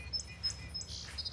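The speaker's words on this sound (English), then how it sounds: "The baby birds are in that cedar right there." Baby birds chirp in a cedar tree, with thin, high repeated tweets in short bursts over a low outdoor background hum.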